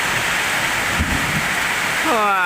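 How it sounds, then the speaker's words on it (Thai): Heavy rain pouring down, a dense steady roar that fills the whole stretch, with a voice starting to speak near the end. "ฝนตกหนาวด้วย"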